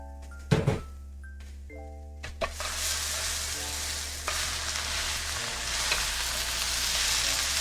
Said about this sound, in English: Next comes the onions and ginger and garlic.